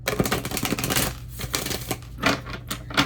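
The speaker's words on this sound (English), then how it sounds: "So these are really hard to shuffle." Rapid riffling clatter of playing cards, hard to shuffle, being shuffled close by, in several quick bursts with brief pauses between them.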